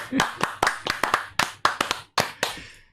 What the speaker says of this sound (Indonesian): kasih aplaus dulu buat dua narasumber ini